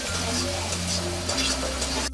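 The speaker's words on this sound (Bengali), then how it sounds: "পেঁয়াজটা রসুনটা ভালো করে নেড়ে নেবেন।" Onion and garlic are stirred in a hot pan until browning, giving a continuous even sizzle with soft scraping under a low steady hum.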